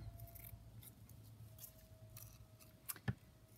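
Scissors cut fabric around a lace trim piece: soft close snips spaced irregularly, ending in two sharper, louder cuts, with no talking.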